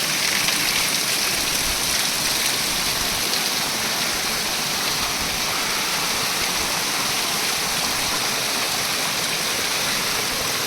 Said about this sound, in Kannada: ಮೇಲ್ಗಡೆ ಹಿಮಾಲಯದ ಬೆಟ್ಟದಿಂದ 108 ಧಾರೆಗಳಾಗಿ ಗೋಮುಖದಿಂದ ನೀರು ಬರುತ್ತೆ